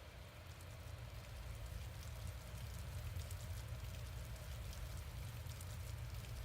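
Steady rain falling in the video game Witch on the Holy Night, an even, dense hiss of raindrops that holds at a constant level throughout with no voices.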